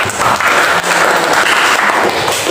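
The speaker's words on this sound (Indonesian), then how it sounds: "Oke, tepuk tangan semuanya." A classroom of students clapping together at a teacher's request, loud and close, a continuous wash of hands over a couple of seconds with no speech on top.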